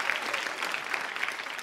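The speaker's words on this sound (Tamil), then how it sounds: "கைத்தட்டல்" Studio audience at a Tamil TV game show bursts into brief, dense applause, a steady wash of many hands clapping at close range.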